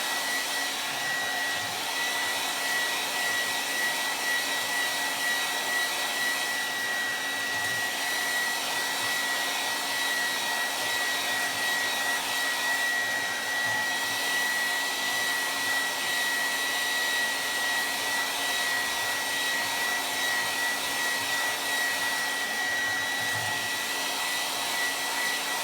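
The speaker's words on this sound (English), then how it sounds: "And then take a hairdryer, heat them up." A hair dryer blows hot air in a constant, steady whir with a faint high whine, heating beeswax lip balms, running without a break and no one speaking.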